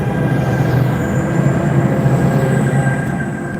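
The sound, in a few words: exo commuter train riding to Cedar Park Station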